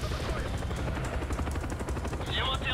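Combat from a helicopter in the video game Call of Duty Black Ops, with rapid rocket and gunfire bursts rattling over the rotor din at a moderate level, while someone talks over the action.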